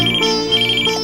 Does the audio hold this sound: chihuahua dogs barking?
no